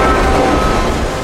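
A CSX freight train on the Wildwood local rolls past loud and close, a continuous rumble of wheels and cars with a faint steady tone.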